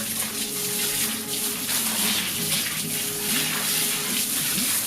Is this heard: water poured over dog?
yes